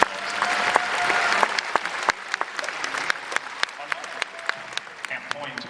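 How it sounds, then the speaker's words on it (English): An outdoor crowd applauds for police service dogs at an RCMP dog show during a summer fair, a dense burst of clapping that thins into scattered, sharper claps toward the end. "Give them a big round of applause for these dogs."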